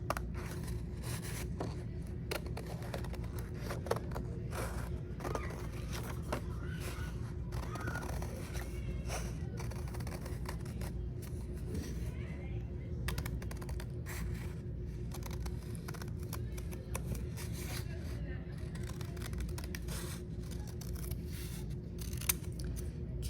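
Scissors snipping white paper to cut out a snowman shape, a quiet, close series of short crisp cuts and rustles with brief pauses, no talking.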